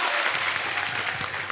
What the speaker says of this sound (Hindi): सो जोरदार तालियां।